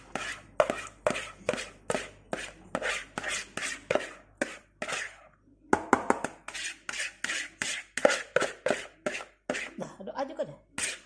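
Fish and flour dough for pempek is mixed by hand, giving a rapid run of moist squelching slaps in steady rhythm, with one short pause midway.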